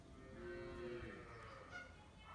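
A cow at a cattle farm gives a single drawn-out low moo that rises slightly and then fades, heard at a moderate distance against quiet farm background without talk.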